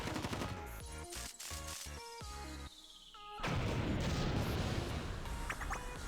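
In the video game Blue Archive, gunfire clatters in rapid machine-gun bursts, then gives way to a dense, loud roar of explosions and crashing blasts that carries on to the end.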